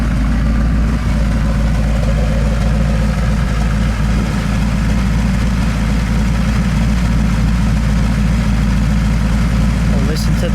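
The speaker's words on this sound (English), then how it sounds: "Let me listen to that idle for a second." A 1991 De Tomaso Pantera 90 Si with a 302 engine sits at idle, giving a steady, close, deep rumble that holds evenly for about ten seconds.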